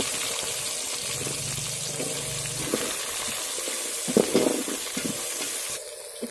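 Onions sizzle in hot oil in a pan for a village-style fish curry, a steady close hiss with a few scraping stirs and light clatter partway through.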